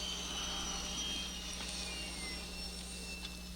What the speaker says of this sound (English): Luke and 3PO race above the desert sands in the battered land speeder